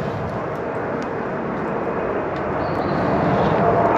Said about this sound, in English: I can't believe it, there's another plane.